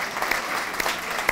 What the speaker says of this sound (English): Big round of applause for Harpoon for hosting all our speakers.